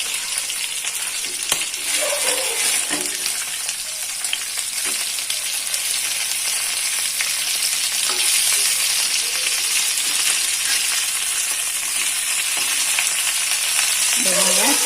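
Fish fries in a shallow layer of oil over a medium flame, a steady close hiss and crackle with occasional light scrapes, no voices.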